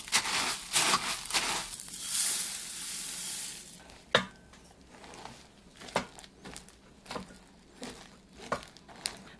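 Coco Pops cereal is stirred into melted marshmallow in a pan, giving close, sticky crackling and scraping strokes with a few sharp clicks, and no voices.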